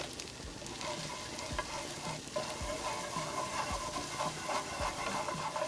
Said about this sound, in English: Incorporate that flour into your butter quickly